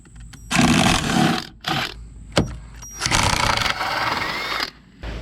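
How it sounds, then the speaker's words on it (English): Power tool or impact driver removing a 13mm body bolt on a Jeep JL Wrangler Sport S, heard as loud buzzing whirring bursts in several runs separated by brief pauses, up close. "We're gonna take out the 13mm bolt."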